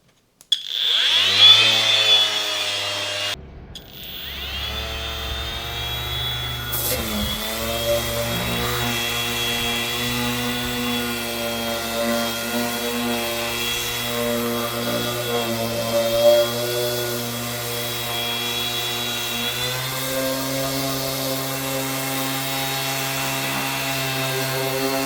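A Parkside 20V cordless random orbital sander runs continuously with a steady buzzing, harmonic-rich whine, briefly starting and restarting near the beginning, then holding level and close.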